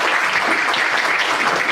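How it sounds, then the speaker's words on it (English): Audience applause at a community gathering on Alzheimer's in Charlotte, a dense, steady round of clapping from a sizable crowd lasting the whole stretch without a break. "If we could please give him a round of applause."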